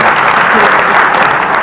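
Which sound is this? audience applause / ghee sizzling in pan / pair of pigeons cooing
audience applause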